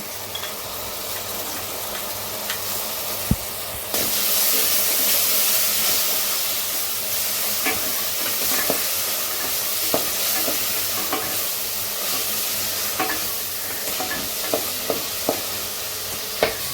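Onions and shallot paste sauté in a pan for Madurai-style mutton paya, a constant loud sizzle that swells partway through, with occasional clicks and scrapes of a stirring spoon.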